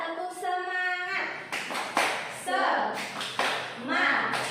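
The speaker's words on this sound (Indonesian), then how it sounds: "Kita akan melakukan tepuk semangat." A primary school class claps in a quick rhythmic pattern, hands striking together in bursts, with children's voices chanting along between the claps.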